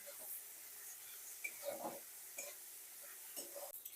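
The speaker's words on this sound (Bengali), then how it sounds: "চিংড়ি মাছগুলো ভাজা হয়ে গেছে" Large prawns frying in oil, with a soft sizzle under intermittent stirring and scraping in the pan, plus a few brief clinks near the end.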